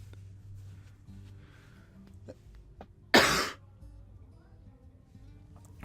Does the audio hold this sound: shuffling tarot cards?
no